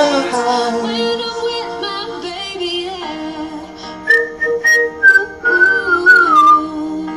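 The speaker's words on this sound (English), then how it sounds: "Hey, rate that whistle on a scale of 1 to 10." A person whistles a melody, first a steady tonal line with harmonics, then a sliding, wavering tune with a few breathy gaps, close and fairly loud.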